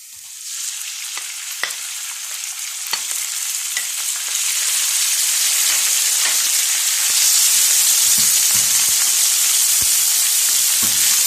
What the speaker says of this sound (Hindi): अब हम चिकन को सिर्फ उतनी देर फ्राई करेंगे जब तक इसका कलर चेंज हो जाए